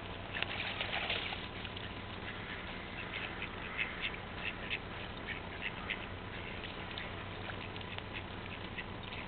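Ducks quack in scattered bursts over a soft background patter, the calls fairly close and uneven in rhythm.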